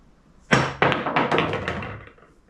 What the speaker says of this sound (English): Still aim below center on the cue ball and just a quick little pop stroke